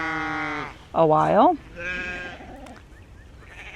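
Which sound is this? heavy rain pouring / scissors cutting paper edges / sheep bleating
sheep bleating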